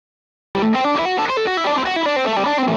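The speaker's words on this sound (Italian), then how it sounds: "tenendo premuto a lungo, seleziono una distorsione più pesante." A heavy distorted electric guitar, switched in through a Morningstar MC6 Pro pedal controller, bursts in after a brief silence with loud, sustained, saturated chords that ring on to the end.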